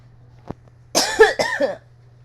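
A short cough, then a burst of several harsh, raspy coughs close to the mic over a low steady hum.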